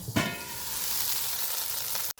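Onions sizzle and crackle steadily in a hot pan, a close, constant frying hiss with a brief stir near the start.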